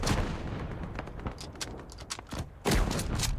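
Rifle fire in the video game Gallipoli comes as a rapid series of sharp cracks over a busy battlefield, with the last shot louder and heavier than the rest.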